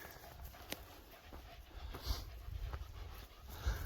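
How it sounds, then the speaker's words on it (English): Dogs pant steadily close by on a sandy rural property, quick rhythmic breaths with a few faint thumps and shuffles, no talking. "And dogs are really happy."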